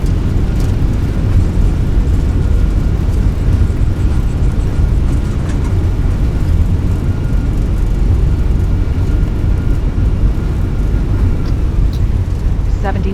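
Airbus A321 reverse thrust roaring during a landing rollout at Frankfurt in Flight Simulator 2020: a loud, steady broadband engine rumble that holds at constant strength for the whole stretch.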